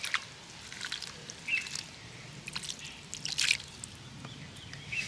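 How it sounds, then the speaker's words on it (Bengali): Fresh chhana made from milk powder is rinsed with plain water for rasgulla, with quiet, sporadic drips, trickles and soft wet squishes close by. "তাই একটু নর্মাল জল দিয়ে এইভাবে ছানাটাকে ধুয়ে নিতে হবে।"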